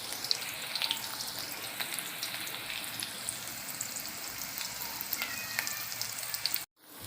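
Green chili thecha sautéing in a pan with oil, a dense, continuous sizzle and crackle heard close up and alone, breaking off abruptly near the end.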